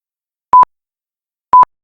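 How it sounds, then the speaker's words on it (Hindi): A phone call tone plays when a switched-off phone is called: two short, loud, pure electronic beeps spaced one second apart, each a brief doubled pulse, with silence between and no voices. "उसकी बड़ी बहन रिया लगातार उसे फोन कर रही थी, लेकिन हर बार उसका फोन बंद आ रहा था।"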